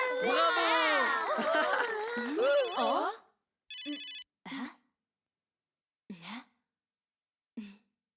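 A telephone ringing in short repeated bursts with silent gaps between, heard after an animated voice talking, the rings faint-to-moderate and close.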